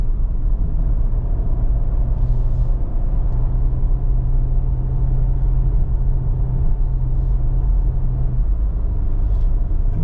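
Steady engine drone and road rumble inside a moving Volkswagen Jetta S with an 8-speed transmission, loud and continuous with a low hum, and shifts barely distinct as it goes up through the gears; no talking.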